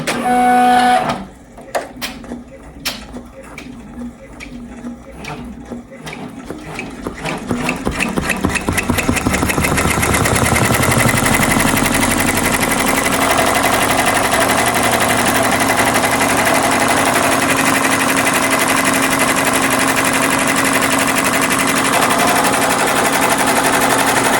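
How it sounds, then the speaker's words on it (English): An embroidery machine stitches directly onto stabilizer for a cocktail napkin made in the hoop, starting with a few sparse needle taps before settling into a loud, steady, fast mechanical whir that runs continuously. "First, I'm gonna stitch onto the stabilizer directly."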